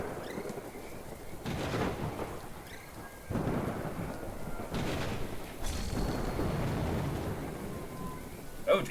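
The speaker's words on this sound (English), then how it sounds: "The thunder is so harsh, the screen is shaking." Thunderstorm in the video game Little Goody Two Shoes: steady heavy rain hisses throughout while several deep rolls of thunder swell and rumble in succession, loud and close.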